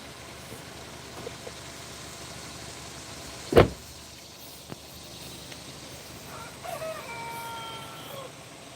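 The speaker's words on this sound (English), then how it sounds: "Hear that chicken? Sounds like he's got a broken voice box." A rooster with a broken, strained-sounding voice crows faintly in the distance over steady outdoor background noise, after a single sharp knock nearby.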